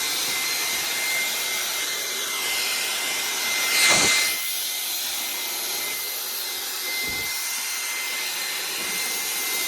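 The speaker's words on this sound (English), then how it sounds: "Hoover is mostly recharged now, so I'm going to hoover this corner" A rechargeable Hoover vacuum cleaner works into a corner with a steady high-pitched whine and airy roar, swelling briefly with a louder bump midway, while a person says a couple of words.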